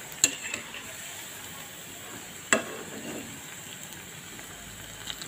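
Poha pakoras frying in hot oil, a soft continuous sizzle and bubbling close by, punctuated by two sharp clinks of a utensil against the pan, with no talking.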